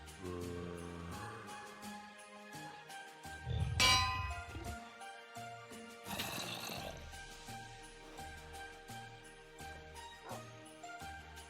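Bell clanging in the Minecraft video game, a few sharp metallic rings with a loud bright strike near the middle, sounding over a quiet background without voices.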